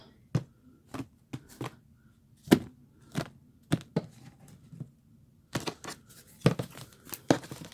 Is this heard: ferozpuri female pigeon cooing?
no